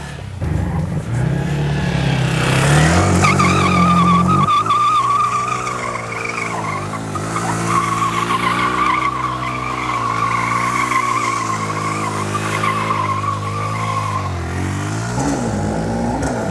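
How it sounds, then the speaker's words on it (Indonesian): Yamaha WR155 supermoto braking hard with the tire skidding, a loud sustained squealing skid over engine tone lasting the whole stretch, close by. "Ini pokoknya pengereman nih. Harus bener-bener ya."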